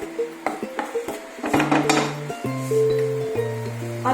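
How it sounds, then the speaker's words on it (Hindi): Clinking of a utensil against a pan while an onion pickle mixture is stirred, repeated metallic taps and scrapes at close range with no talking. "इसको अच्छे से हम चला लेंगे।"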